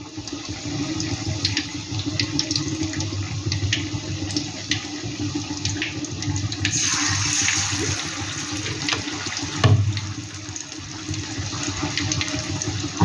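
Coriander leaf fritters (dhone patar chop) fry in hot oil with a steady, dense, close sizzling hiss throughout, swelling briefly to a louder crackle near the end.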